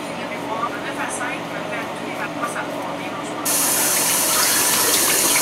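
Shower water runs in a steady, broad hiss and patter that continues throughout, then jumps abruptly to a louder, brighter spray for the last couple of seconds.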